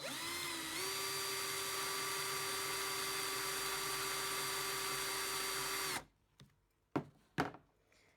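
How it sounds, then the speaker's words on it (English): A power drill twisting wires together whines steadily at high speed for several seconds, then stops abruptly, followed by a couple of brief clicks and knocks. "put the drill on, and that'll turn the wires together"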